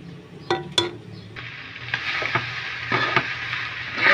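Garlic fried rice frying in a pan, a steady sizzle with repeated scraping and stirring strokes from a utensil, fairly close and without talk.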